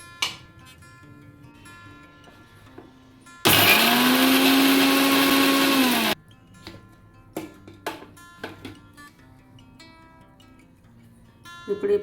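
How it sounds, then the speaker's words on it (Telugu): An electric mixer grinder whirs loudly and steadily for about three seconds, grinding green chillies, cumin and garlic, then stops, leaving quiet kitchen clinks and taps before and after. "ఇప్పుడు దీంట్లోకి మన 4 పచ్చిమిర్చి, జీలకర్ర, ఎల్లిపాయలు ఫస్ట్ మిక్సీ పట్టుకుందాం"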